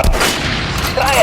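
A single loud gunshot hits an armored training dummy in Metro Redux, a sharp blast at the start with a short ringing tail and a faint metallic ping near the end.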